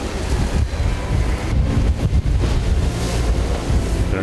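Rough sea waves crash and surge around an eel-fishing boat while strong wind buffets the microphone. The roar is loud and continuous, with no voices.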